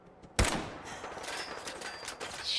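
A sniper rifle shot in Fallout 4 fires with one sharp, loud crack. A steady game ambience follows, and a few faint mechanical clicks and a short tone sound through it.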